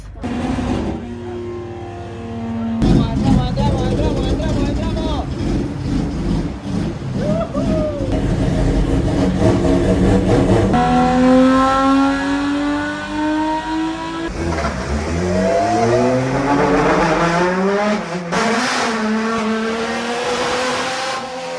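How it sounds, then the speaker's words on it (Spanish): A car engine revs repeatedly in loud rising and falling sweeps, with occasional squeal-like tones and a steady roar throughout. "Cuando llegó el momento, se prenden los motores."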